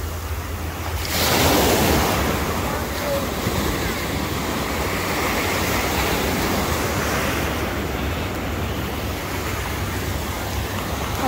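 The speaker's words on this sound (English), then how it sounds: "Oh, these waves are too big." Big ocean waves break and wash continuously onto the shore at Ocean City beach, a loud, steady roar of surf with wind buffeting the microphone throughout, no voices present.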